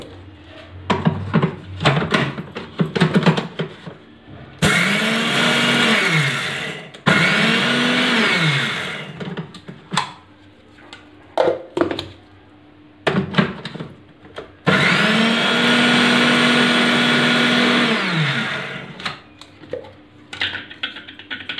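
Electric mixer grinder pulverising coriander seeds into a coarse powder for dhania prasad, running in two loud sustained bursts separated by quieter clatter and knocking sounds.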